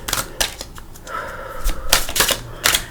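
Tarot cards being shuffled by hand, a quick series of crisp riffling snaps and clacks, close and loud, with a short softer pause between bursts.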